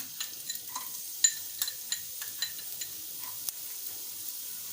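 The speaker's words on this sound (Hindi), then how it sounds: "तो पहले मैं गार्लिक डाल रही हूँ, जो कि 1 टेबल स्पून है।" Chopped garlic hits hot oil in a pan for broccoli Manchurian, giving a faint, steady sizzle with scattered light clicks and taps of a stirring spoon.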